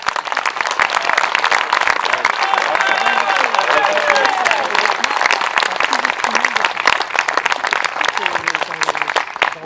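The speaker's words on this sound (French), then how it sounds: "Je vous prie de faire un tonnerre d'applaudissements à Maître Deveul." Loud, sustained applause from a political gathering audience in Évry-Grégy-sur-Yerre fills the whole stretch with dense steady clapping, with some crowd voices mixed underneath.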